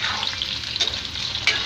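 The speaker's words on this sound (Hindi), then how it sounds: "तो चलिए प्याज को सुनहरा होने तक भून लेते हैं और आलू को भी हम एक बार चला लेते हैं।" Onions and potatoes sizzle steadily in a pan for winter khichdi, with two louder scraping stirs cutting through the continuous close frying hiss.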